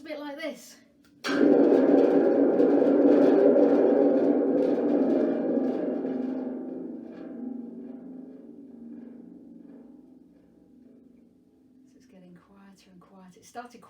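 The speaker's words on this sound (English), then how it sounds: "it's a drum with a very long spring, and when I give it a big shake it sounds a bit like thunder" A thunder drum with a very long spring is given a big shake, letting out a loud rumbling, rattling roar that starts abruptly and fades over several seconds into a quieter tail.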